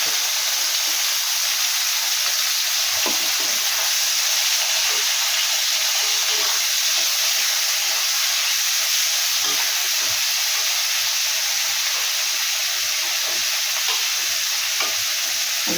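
Sliced onions fry in hot spiced oil, making a loud, dense, unbroken sizzle and hiss with faint stirring beneath, steady throughout and without talk.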